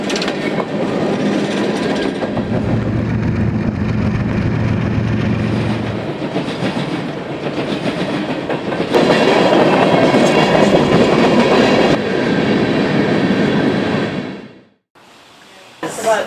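A long BNSF coal freight train rolls past on the rails with continuous loud rumbling and clickety-clack from the wheels, then drops away abruptly near the end, with voices in the background.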